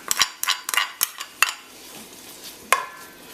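Bits of salted cod go into a warm pot for Jamaican callaloo, giving a series of sharp metallic clinks and scrapes of a utensil against the pot, irregular and close, with quieter gaps between.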